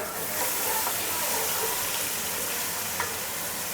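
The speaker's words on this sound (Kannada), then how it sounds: "ಶುಂಠಿ ಬೆಳ್ಳುಳ್ಳಿ ಪೇಸ್ಟ್ ಹಸಿ ಸ್ಮೆಲ್ ಹೋಗೋ ತನಕ ನಾವು ಸ್ವಲ್ಪ ಫ್ರೈ ಮಾಡ್ಕೊಬೇಕು" Ginger garlic paste fries in a pan for mutton biryani, giving a loud, close, continuous sizzle and hiss with faint stirring scrapes.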